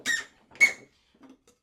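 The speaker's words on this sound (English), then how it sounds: "Probably have to cut it a little more so it won't squeak so much." A wooden add-on part squeaks on a workbench as it is screwed in: two loud, close squeals about half a second apart, then a fainter creak.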